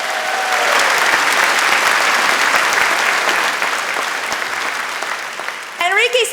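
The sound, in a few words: audience applause for Enrique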